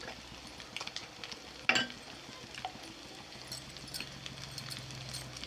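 Chicken frying in a pan for a spicy Telugu-style chicken fry, spice powder being stirred in, gives a soft steady sizzle with a sharp scrape of the spoon against the pan.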